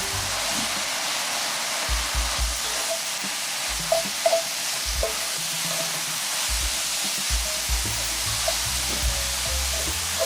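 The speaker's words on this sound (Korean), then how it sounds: "물기가 없이 바싹 볶아진 다음에 표고버섯 여기다 넣어주세요" Shiitake mushrooms stir-frying in a hot pan, a continuous dense hiss of sizzling with light scattered taps and scrapes from stirring, steady and close.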